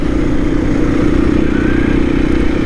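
A 2024 KTM EXC-F 500 Six Days dual sport motorcycle being ridden, its single-cylinder engine holding a steady, loud, continuous drone with light rattle and no speech.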